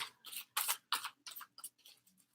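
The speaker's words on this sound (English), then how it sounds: "Give it a nice, good shuffle again." Tarot cards being shuffled up close, a quick series of crisp riffling and slapping bursts in an irregular rhythm, fairly quiet, no talking.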